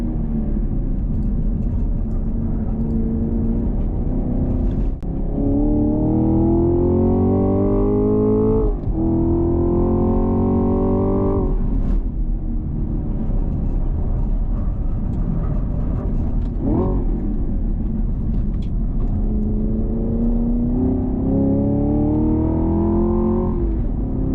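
A 2023 Nissan Z sports car accelerates hard, with its engine note climbing loud and close through successive gears, each rising pull broken by a brief shift.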